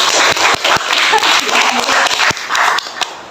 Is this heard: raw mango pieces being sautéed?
no